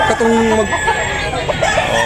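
A backyard rooster crows amid a busy poultry sale at Tabunok, Talisay, Cebu, its drawn-out call rising over crowd chatter and other clucking fowl, fairly close and loud.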